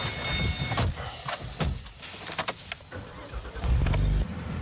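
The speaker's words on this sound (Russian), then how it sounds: "заводим моторы и посмотрим" An Opel Vectra OPC and a Mazda 6 MPS start up at a test track. Mechanical clunks and clicks give way to a loud, steady engine roar that swells toward the end, with no talking.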